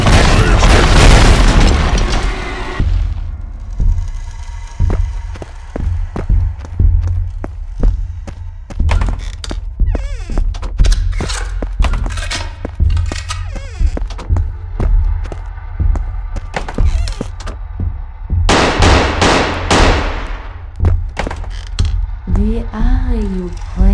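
Heavy gunfire in the Backrooms Buff Doge horror video game: loud booming shots repeat in rapid irregular bursts, with thumping impacts in between and a brief voice near the end.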